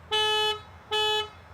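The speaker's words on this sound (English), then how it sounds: "it just beeps the horn, flashes the light" Car horn of a 2017 Volkswagen Jetta 1.4T S set off by the key fob panic button: two short, loud, bright beeps in quick succession, close by, with no talk.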